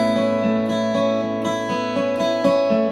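Acoustic guitar strumming a B-type chord over an open A bass note, steady rhythmic strums with a bright ringing sustain, close and alone without talking.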